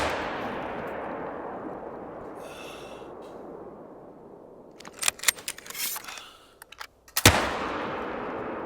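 Several sharp .22 Magnum rifle shots fired over iron sights in theHunter: Call of the Wild, irregularly spaced cracks with a louder final report and a short decay, set against a steady ambient outdoor hiss.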